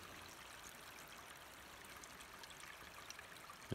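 Water trickles and runs steadily down a mountainside beside a road, a soft continuous rushing wash heard at a moderate distance with no talk.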